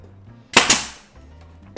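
A nail gun fires 1-inch nails into wood while building a fireplace surround and mantle: a loud, close double bang in quick succession that fades out, with a faint knock shortly after.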